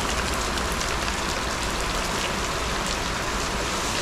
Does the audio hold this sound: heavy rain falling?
yes